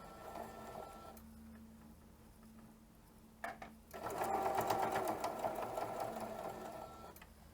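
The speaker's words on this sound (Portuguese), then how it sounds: "E vou começar a costurar com o retrocesso." A domestic sewing machine stitches and backstitches while a jewelry holder is made. A brief burst is followed by a pause, then a steady, close, rapid run of stitching that carries on to the end.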